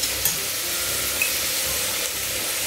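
Salted onions and other ingredients for a coconut-milk mutton stew are sautéed in a pan, giving a steady close sizzle with a few faint knocks and no voices.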